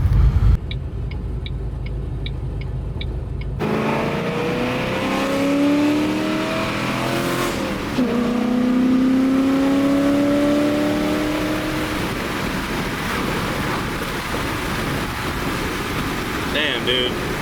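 Car engine revving and accelerating while driving, a loud, rising and falling mechanical roar heard from inside the vehicle, with a brief quieter stretch at the start.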